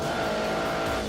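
A car drifting in The Grand Tour Game video game, with a steady engine drone and a sustained tire squeal running loud and unbroken through the whole moment.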